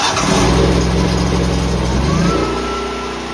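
A mobile EV charging truck running with all three cooling fans on, giving a loud, steady engine-like roar with a broad rushing hiss that eases slightly near the end, heard up close.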